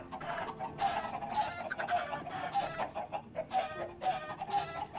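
Video game chickens clucking and squawking in short repeated bursts, several birds close together on a farm build, fairly loud with no talk over them.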